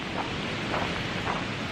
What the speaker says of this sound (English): it's just a little too cold and windy